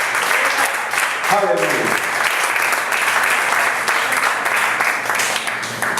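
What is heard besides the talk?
church congregation applause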